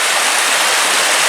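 A coastal creek near Cape Lookout and Short Sands Beach rushes toward the sea, a loud, close, continuous broadband wash of flowing water with no talking.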